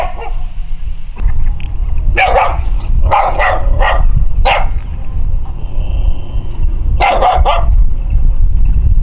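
A brown dog barks several times in short bursts, close and loud, with a low rumbling background between the barks, on Isla Tenglo near Puerto Montt, Chile.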